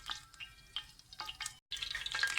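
Cooking oil, a quarter cup, warming in a pan on the stove for shallow-frying raw minced-meat kebabs, giving faint crackles and soft sizzling pops that are scattered and close with no talking.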